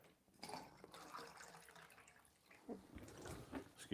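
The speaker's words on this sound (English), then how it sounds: "Excuse me whilst I pour some water." Water pours into a glass in a short, close trickle with small splashes and drips, several brief gurgling bursts over about four seconds, fairly quiet against a faint room background.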